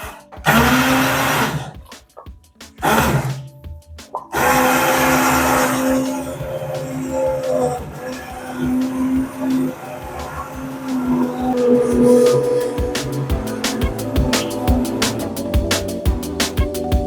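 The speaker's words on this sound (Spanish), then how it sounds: "Entonces con una batidora de mano," A hand blender purees a vegan broccoli and celery soup, its motor buzzing and churning in bursts before a longer continuous run, with clattering and rattling against the container.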